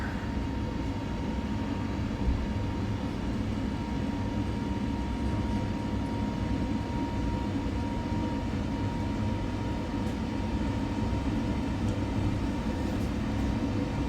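Airbus A320neo engines from iniBuilds roar steadily at takeoff thrust in a flight simulator, a continuous loud broadband rumble with a faint whining tone holding through the takeoff roll, no talking.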